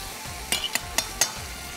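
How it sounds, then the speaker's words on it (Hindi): Boiled rice is stirred into frying masala for beef lagan pulao, with four quick, evenly spaced spoon scrapes over a soft, steady sizzle. "इसके अंदर डालने हैं ये राइस, और राइस को मिक्स करेंगे"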